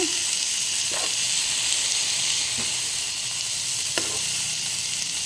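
Shredded cabbage stirred in a hot frying pan for a home vegetable dish, a steady close hiss of sizzling oil with a few soft scraping stir strokes, no talking.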